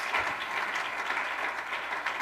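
Steady applause from a church congregation fills the space, a dense wash of many hands clapping at an even level throughout, with no voices standing out.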